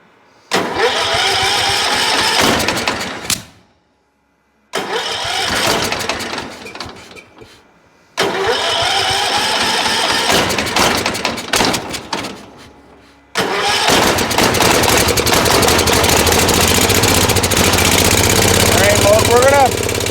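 A Cub Cadet 1450 garden tractor engine with the choke on cranks and catches in three loud, close bursts, dying between attempts, then keeps running steadily at the end.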